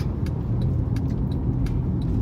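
Car driving down a turning lane, with a steady, close low road rumble and engine noise and faint intermittent clicks over it.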